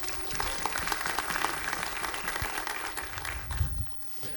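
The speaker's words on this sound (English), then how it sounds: "So big round of applause for Chris Dudley." A crowd claps steadily in a dense, even wash of applause that carries on for several seconds before dropping off abruptly at the end.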